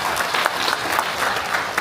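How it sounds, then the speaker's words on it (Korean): Steady applause from a crowd gathered for a county governor's visit to a township, continuous close clapping with no break over a short stretch. "박수 쳐주세요."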